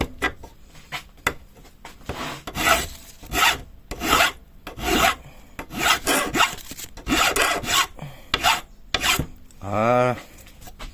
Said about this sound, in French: On lime les bavures.